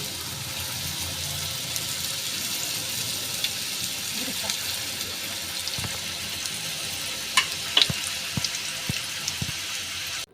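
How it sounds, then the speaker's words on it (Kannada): Wheat flour snacks deep-frying in hot oil, a steady broadband sizzle throughout with a few sharp clicks and taps near the end, no talking. "ಎಣ್ಣೆ ಕಾದಮೇಲೆ ಅಷ್ಟನ್ನು ಹಾಕಿ ಎರಡೂ ಕಡೆ ಗರಿ ಗರಿಯಾಗಿ ಎಣ್ಣೆಯಲ್ಲಿ ಕರಿಬೇಕು"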